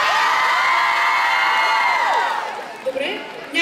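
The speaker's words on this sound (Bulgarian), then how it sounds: "Искам да чуя всичките ви бурни аплодисменти, викове, крясъци" A festival crowd at an anime convention stage cheers, shouts and whoops loudly and continuously, with children's high voices in the mix, then the noise fades toward the end.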